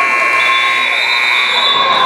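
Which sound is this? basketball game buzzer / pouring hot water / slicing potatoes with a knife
basketball game buzzer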